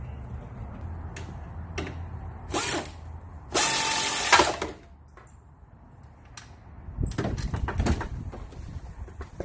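A power tool or wrench loosens the last strut bolt on a 2014 Nissan Rogue under load, giving a few short mechanical bursts and then a louder sustained run of whirring and ratcheting at close range.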